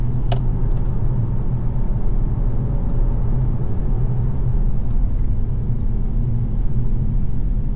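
BMW M4 GT4 race car rolling through the final corner into the pit lane, a steady close engine drone with deep low rumble held at constant loudness throughout.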